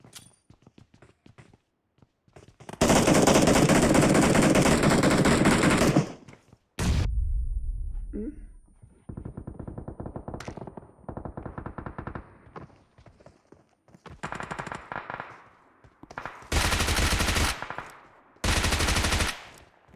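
Automatic gunfire in a video game deathmatch rattles out in several loud, close bursts separated by short pauses, with quieter shots and movement sounds in between.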